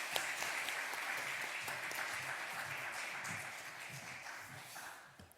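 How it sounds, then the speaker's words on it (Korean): Church congregation at a Wednesday service giving warm applause to welcome a guest pastor; steady, dense clapping from many hands, fairly faint and distant, tapering off toward the end. "우리 강사 목사님 뜨거운 박수로 영접하도록 하겠습니다"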